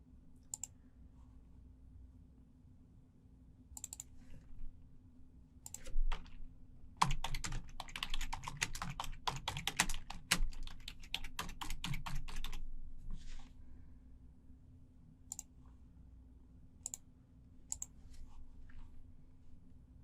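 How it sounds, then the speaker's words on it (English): Bursts of keystrokes on a computer keyboard as text is typed on a Windows 11 machine, sparse clicks at first, then a dense run of steady typing in the middle before trailing off into isolated taps, close and fairly quiet with no talk. "perform a few activities such as logging into a website or typing some text"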